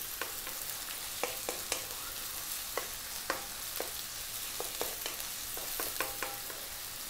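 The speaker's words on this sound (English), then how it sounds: "We're going to drop in our onion and our chopped garlic. We're on quite a high heat," Onion and chopped garlic sizzling over high heat in a pan, a dense continuous fry with scattered sharp crackles and utensil taps, no talking.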